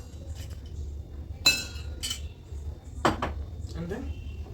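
Ice cubes drop into a glass for a hibiscus mocktail, giving a few sharp, bright clinks and rattles close by, with two louder strikes standing out among softer taps over a low background hum.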